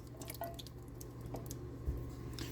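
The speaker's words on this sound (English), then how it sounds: "We're going to go ahead and pour in those beans, juice and all." Canned beans with their juice pour into a soup pot of Italian sausage soup, a soft wet dripping and sloshing that runs steadily and close, with no talking.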